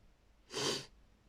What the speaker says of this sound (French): je renifle